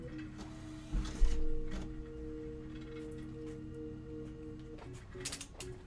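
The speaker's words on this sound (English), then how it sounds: "We gotta grind cornmeal for this" An electric grinder whirs steadily while milling cornmeal, its motor hum carrying a few tonal lines with brief louder bursts, heard close and alone without talk.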